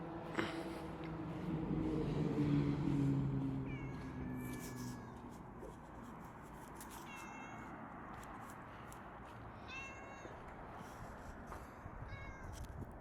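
Faint, distant meows from a shop cat in a garage, a few short calls scattered over a steady low background hum, with no talking.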